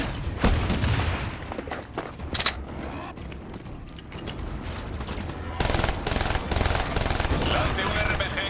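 Sustained rapid automatic gunfire in the Call of Duty: Black Ops III campaign, with overlapping bursts and mechanical clatter, loud and continuous, shifting in intensity partway through.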